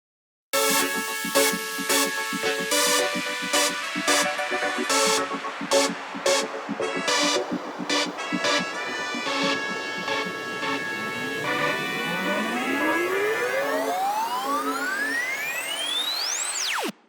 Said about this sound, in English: So when the effects, synth chords, the piano and the horns are stacked up, it sounds like this.